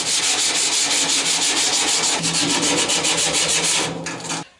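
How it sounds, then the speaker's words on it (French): A power sander grinds the rusty body of a Citroën Traction 11B down to bare metal, a loud, steady abrasive rasp running nearly throughout before easing off and stopping at the end. "on va le poncer à blanc."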